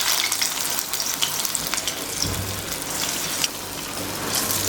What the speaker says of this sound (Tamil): அதுக்கப்புறம் நம்ம வடையெல்லாம் பொரிச்சு எடுத்துக்கலாம்.